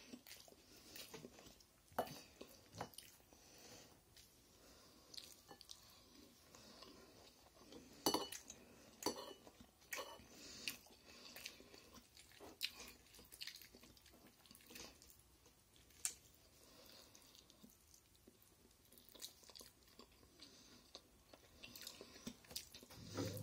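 Sausages eaten with cutlery, with scattered clinks of fork and knife on a plate and soft close chewing across a quiet room, the sounds irregular and faint.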